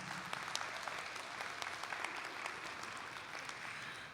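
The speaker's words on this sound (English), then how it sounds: "Let's give those schools a round of applause" A meeting audience applauds recognized schools with continuous, even clapping, faint and somewhat distant, holding steady without talk.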